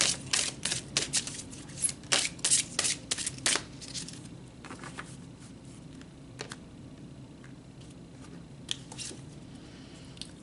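Playing cards are shuffled for a tarot-style reading: a quick run of crisp riffling snaps over the first few seconds, then a few scattered softer flicks of cards against a quiet room hum.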